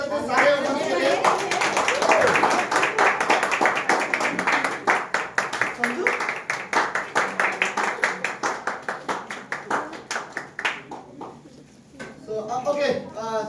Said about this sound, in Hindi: आदमी लोग एक बार ताली बजा सकते हैं सारे उपस्थित के लिए